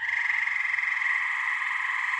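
Tree frogs croak in a dense, steady night chorus southeast of Ohio, a continuous trilling wash that holds at an even loudness throughout, with no voices over it.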